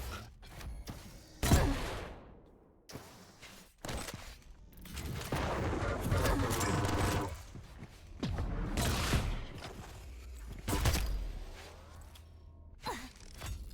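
Rapid weapon fire in a Quake Champions match, with sharp shots, booming impacts and whooshing bursts in quick succession over a dense arena din.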